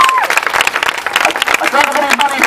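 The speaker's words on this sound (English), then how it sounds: "Give me a big clap, guys, done a great job." A street performer's audience at Southbank in Brisbane claps steadily throughout, with the applause mixed in with nearby talking.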